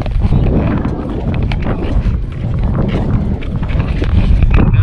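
Strong seaside wind buffets the microphone at a beach resort, a steady loud low rumble with gusts swelling and easing throughout, no voices.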